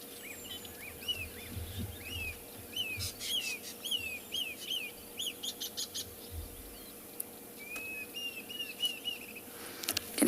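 Wild birds call on a South African morning safari, with repeated clear chirps and whistled notes from several birds over a steady hum of outdoor ambience, moderately distant.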